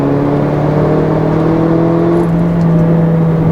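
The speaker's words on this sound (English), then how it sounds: "the pissed off 4-cylinder noise is great. It's a 2-liter, which is great, and it sounds awesome." A 2015 Mercedes-Benz GLA 45 AMG with a turbocharged 2-liter four-cylinder engine revs loudly and close, a dense, constant engine roar with a rising pitch and no voices over it.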